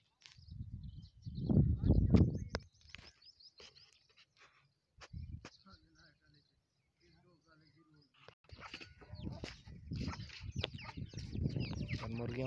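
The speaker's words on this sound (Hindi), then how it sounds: "मुर्गियां" Farmyard chickens cluck in short bursts under close, loud talk, with quieter gaps between the calls.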